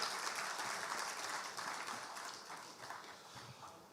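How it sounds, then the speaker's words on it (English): An audience at a Ghanaian financial launch event applauds the Vice President, with steady, even clapping throughout that eases off slightly toward the end. "Shall we do a big round of applause for him?"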